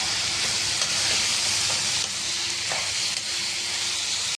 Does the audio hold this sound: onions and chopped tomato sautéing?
yes